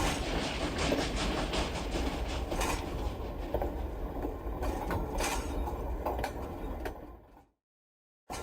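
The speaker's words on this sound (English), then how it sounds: "we pull forward to clear the switch so we can back in to pick up the cut of hopper cars" Model railroad freight train with hopper cars rolls steadily at a rural agricultural grain stop, a continuous rumble with rapid rail clicking, then cuts to silence near the end.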